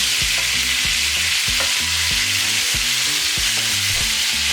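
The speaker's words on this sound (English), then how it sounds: "So just move it around so like that the ribs don't get stuck to our pot." Pork ribs fry loudly in a pot, a dense sizzle running the whole time with a steady rhythm of stirring scrapes and knocks close by.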